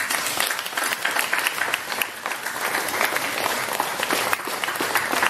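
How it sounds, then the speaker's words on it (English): Concert audience applauding in a Shanghai culture centre hall, steady dense clapping throughout with a few whoops, full and close. "An extra applause for him, I think."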